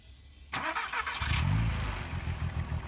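A warm car engine cranks and catches about half a second in, then idles loudly and a little unevenly, with a slight limp in its rhythm and no talking over it.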